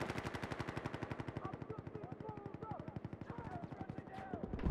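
Rapid, sustained machine gun fire in Battlefield 4, a fast even stream of close shots for several seconds with other game sounds faintly underneath.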